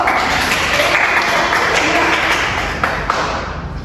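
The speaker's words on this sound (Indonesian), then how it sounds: "tepuk tangan dulu" Students in a classroom applaud a classmate, a close, loud burst of clapping with some sharper taps, thinning out slightly toward the end.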